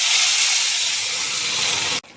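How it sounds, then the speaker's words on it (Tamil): Lentils hit a hot pan of fried onions and dried red chillies, setting off a loud, close, continuous sizzling hiss that holds steady for about two seconds, then cuts off abruptly. "இப்போ பருப்பு ஊற்றிக்கலாங்க"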